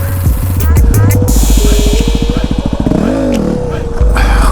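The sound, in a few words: Yamaha WR250R motorcycle engine revving during a slow wheelie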